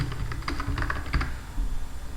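Close keystrokes on a computer keyboard, a quick burst of clicky typing while entering text into an Excel spreadsheet, easing off toward the end.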